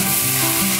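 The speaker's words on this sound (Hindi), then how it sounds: "तो अब हम इसके अंदर जाएगी जो हमारी शिमला मिर्च है वो" Bell pepper goes into a hot pan for a chicken noodle stir fry, giving a loud, continuous close sizzle with a faint scraping stir underneath.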